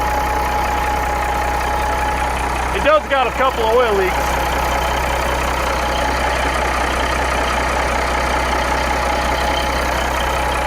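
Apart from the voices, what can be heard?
abandoned truck engine idling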